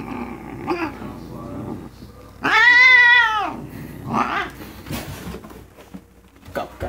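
Cats fight, with a loud, drawn-out wavering yowl in the middle, shorter growls and meows around it, and scuffling noises. A person talks faintly between the cries.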